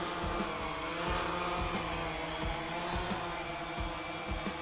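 DJI Phantom drone taking off and hovering, a steady high-pitched whine of spinning propellers, close and continuous, with a faint rhythmic thumping underneath and no talk.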